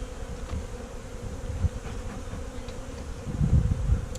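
Honey bees hum in a low, continuous drone around an opened hive, steady and close with a slight swell toward the end, no voices.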